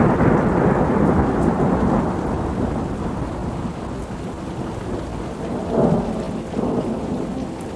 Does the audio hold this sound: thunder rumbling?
yes